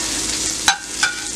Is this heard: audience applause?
no